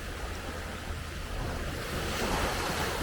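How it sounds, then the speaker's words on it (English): Waves wash onto a crowded beach at Hua Hin, Thailand, on a bright late morning, a steady broad roar of surf mixed with wind buffeting the microphone, swelling slightly toward the end. "This beach, let me give you some more of this beach right here."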